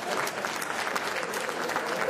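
A large audience at an ambassador's investiture ceremony in the Congo gives a steady, dense round of applause that holds at full strength throughout. Crowd noise and voices are mixed in.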